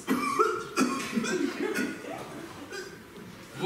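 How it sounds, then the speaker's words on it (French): A man coughs theatrically, a few exaggerated, breathy coughs mixed with chuckling, close and fairly loud, amid a stage comedy scene. "Regardez comme je tousse."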